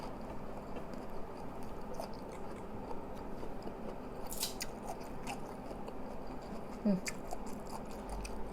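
Someone bites into chilled, crunchy salak fruit, giving a few soft crunches and chewing sounds close to the mouth, quiet over a faint background hum.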